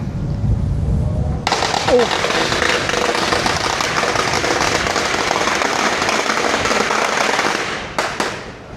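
Firecrackers crackle in a long, dense burst of rapid pops after a short quieter stretch, loud and sustained for several seconds, then trailing off with a couple of final bangs; a voice is briefly heard at the start.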